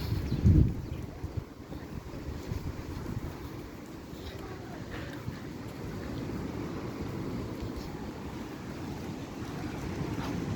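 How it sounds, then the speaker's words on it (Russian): Strong wind buffets the microphone on the stormy Sea of Azov shore at Golubitskoye in September, a loud continuous rumble with a sharp gust at the start and surf noise mixed beneath. "Сегодня у нас ветрено."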